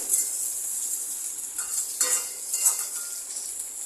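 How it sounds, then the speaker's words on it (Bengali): Malabar spinach stems and pumpkin sizzle in oil in a pan, a steady hissing fry with a few soft stirring scrapes and light clinks, fairly close with no talking. "ডাটা আর কুমড়োটা আমি আগে একটু ভেজে নিচ্ছি"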